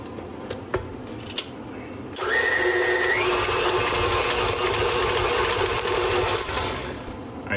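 Electric mixer beating chocolate cheesecake batter for a Basque-style cheesecake, starting after about two seconds and running steadily with a whirring hum that rises in pitch once, near and fairly loud, with faint clatter before it starts.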